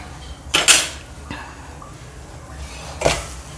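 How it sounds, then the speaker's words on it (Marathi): Bhakri flatbread being flipped on a hot griddle (tawa) while cooking a village-style okra amti meal, giving a couple of sharp metallic clatters and a scrape, then a quieter pause and one more clatter near the end, with no talking. "तर भाकर आपण तर उलटी करून टाकू."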